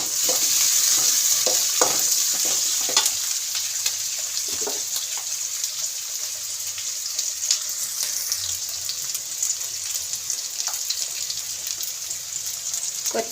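Curry with onion, capsicum and curry leaves sizzles steadily in a hot pan, a bright continuous hiss with a spoon stirring and scraping in scattered knocks close by.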